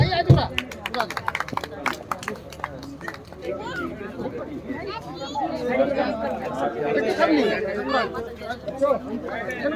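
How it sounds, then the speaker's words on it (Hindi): At an Ambedkar Jayanti community gathering, an audience claps loudly in a quick, scattered burst. The clapping soon dissolves into lively crowd chatter and murmuring voices that fill the rest of the moment. "जोरदार तालियां।"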